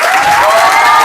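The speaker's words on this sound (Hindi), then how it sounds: "दीवान सर तालियां हो जाए भाई" Applause for a teacher from a crowd: a brief, steady burst of clapping, loud and dense, lasting about a second.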